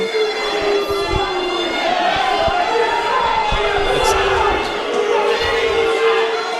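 A wrestling crowd at a live event jeers wrestler TK O'Ryan, a loud, sustained roar of voices with rhythmic chanting and scattered shouts filling the whole stretch.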